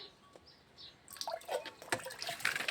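Water runs and trickles near a cattle shed, faint at first and then swelling into close, uneven splashing and dribbling.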